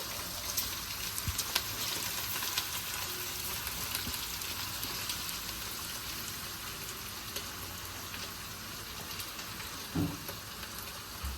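Vegetables fry in a pan for semiya fried rice: beans, green chillies, curry leaves, carrot, capsicum and potato. A steady dense sizzle crackles throughout with a faint clink near the end.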